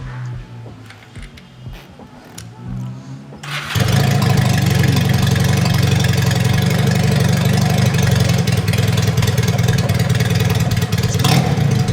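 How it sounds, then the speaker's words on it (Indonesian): A quiet stretch, then a Regal Raptor Daytona 350 cc motorcycle engine fires up and settles into a loud, rough, steady idle nearby. "Ya, cukup berisik untuk motor 350 cc."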